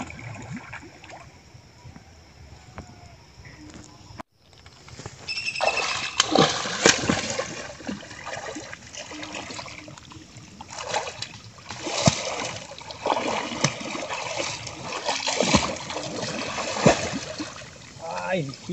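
Someone wades through a shallow stream hunting for crabs: after a quiet start come irregular close splashes and watery sloshing, rising and falling in bursts as hands dig through the water.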